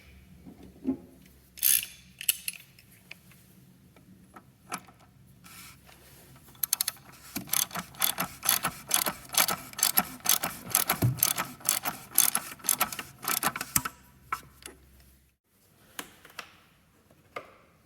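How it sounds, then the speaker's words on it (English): A wrench snugs down the oil filter on a Jeep Gladiator, giving a fast run of sharp ratcheting clicks in bursts, close and fairly loud, with quieter clicks before and after and no talking. "after that you need to snug it down with a wrench"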